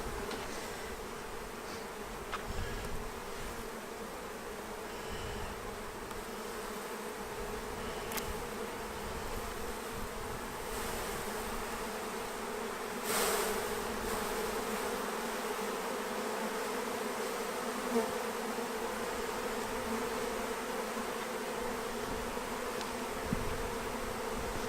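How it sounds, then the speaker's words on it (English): Honey bees buzz around a beekeeper: a faint, continuous swarm hum with individual insects passing close now and then, with no talking. "Look at all the bees on my feet."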